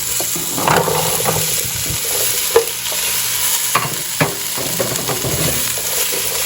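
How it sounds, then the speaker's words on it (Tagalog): Okra, winged beans, radish and string beans sauté in a pan for sinigang sa batuan, with a loud steady sizzle and occasional scraping stirs and clacks of a spatula. "So, gisa nyo lang."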